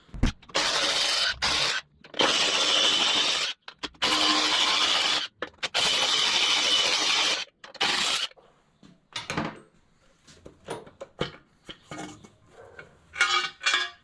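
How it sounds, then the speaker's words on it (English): A ratchet removes five bolts on a Harley-Davidson Dyna Lowrider during a Speed Kings Cycle chain drive kit install, loud bursts of metallic ratcheting separated by pauses, then quieter clinks and handling noises. "Now we're going to take out these 1, 2, 3, 4, 5 bolts."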